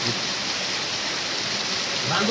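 Heavy rain in a village falling steadily as a dense, even wash of noise throughout, swelling slightly near the end, with no voices.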